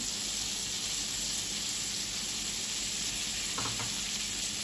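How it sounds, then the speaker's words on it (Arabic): A spoonful of butter sizzles steadily in a hot pan with two pieces of mastic added, a continuous close frying hiss that stays even throughout with no voices. "هنزل بمعلقة زبدة اهي، وهننزل بفصين مستكة اهو"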